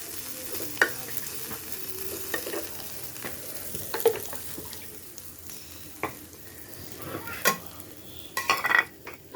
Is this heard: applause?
no